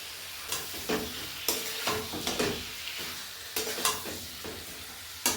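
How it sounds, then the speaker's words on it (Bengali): Mutton fries with garam masala and meat masala in a village kitchen, a steady sizzle broken by firm ladle scrapes and knocks against the pot every second or so. "মশলাগুলো ওইটা দিয়ে একটু কষে নেবো।"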